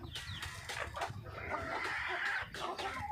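Several chickens cluck and murmur close by while they peck their feed off the ground, with soft overlapping calls running throughout and no talking.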